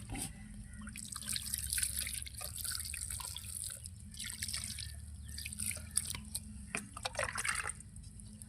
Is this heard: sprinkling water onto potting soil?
yes